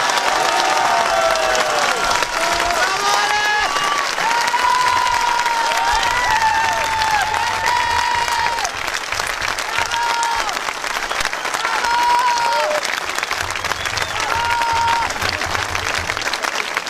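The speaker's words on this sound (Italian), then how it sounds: "Fatevelo voi l'applauso, fatevelo voi!" A crowd at a political rally in Bologna applauds loudly and continuously, with dense clapping, scattered cheers and whistles rising over the top, and a few voices calling out.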